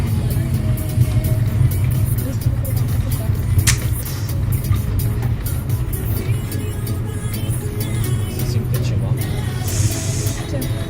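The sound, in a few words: car wheel noise while driving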